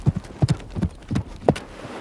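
Horse hooves clip-clop in a steady, uneven rhythm in open Kenyan landscape, several distinct hoof strikes close by with no talking.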